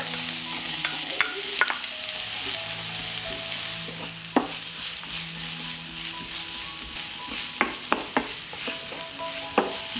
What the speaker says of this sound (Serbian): Ulje se zagrejalo i propržit ćemo crni i beli luk.